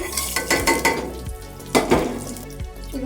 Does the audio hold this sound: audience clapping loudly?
no